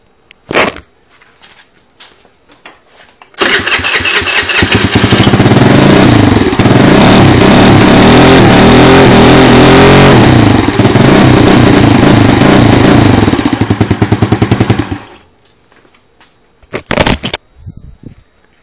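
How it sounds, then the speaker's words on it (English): A moped with a bored-out engine revs hard through its exhaust, a loud raspy buzz held for about twelve seconds, framed by short blips and quieter idle before and after. "That turns a lot of heads because moped ain't supposed to be making that noise."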